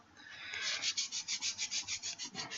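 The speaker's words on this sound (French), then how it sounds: "Vous entendez bien que je frotte, hein, je fais pas semblant" A hand rubs hard back and forth on the skin of an arm, heard as a quick, even series of about a dozen close, scratchy strokes after a brief build-up, with no talk.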